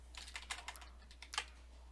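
Keys clacking on a computer keyboard while copy-paste shortcuts are typed, a quiet, close burst of quick uneven taps over a low steady hum.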